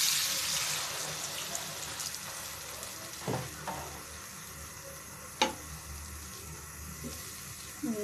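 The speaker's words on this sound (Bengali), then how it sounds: "ঝোলটা বলক আসা পর্যন্ত একটু অপেক্ষা করব। তো বলক এসে গেছে।" Cabbage curry broth comes to a boil in a cooking pot, giving a steady close bubbling hiss with a few soft clinks and taps over it.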